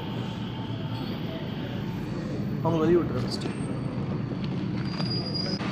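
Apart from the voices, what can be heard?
Skytrain arriving at Singapore Changi Airport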